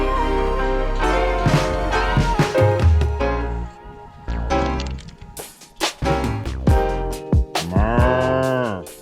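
Cows in the Swiss Alps moo in deep, drawn-out calls, several loud lowing bursts close by with uneven pauses between them, ending in a rising, strained bellow.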